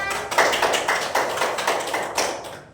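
Students in a primary-school micro-teaching classroom clapping together in a rhythmic, patterned beat, crisp repeated claps at a moderate level, with no talk over them.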